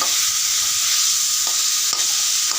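Chickpea ghugni stir-fries in a hot pan with a steady, close sizzle throughout, broken by a few faint scraping stirs.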